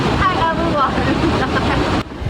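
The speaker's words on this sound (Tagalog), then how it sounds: "Di rin marinig boses ko dito dahil mas rinig mo ang agos ng tubig." A fast current of water rushes loudly at Bagaparil Spring, a continuous churning roar with wind buffeting the microphone. A faint voice can be heard beneath it.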